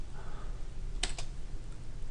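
A single computer keyboard key, the F2 key, pressed once in a quiet spreadsheet editing session, giving a brief crisp click with a faint second tap just after, alone without talk.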